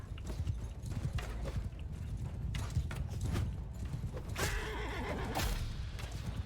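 A horse neighs loudly in the Realm of Thrones mod battle, its whinny rising over a steady clatter of hooves, clanking armour and battle noise.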